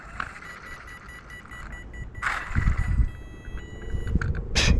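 A series of short electronic beeps at a steady rhythm as an electronic speed controller arms an EDF jet in an RC car, with a brief whoosh of motor noise and handling sounds mid-clip, fairly close.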